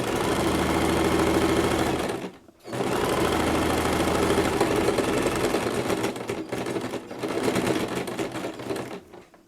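A sewing machine stitches a small fabric bag in a dense, steady mechanical whir that runs loud and close, breaking off briefly once before resuming at full speed.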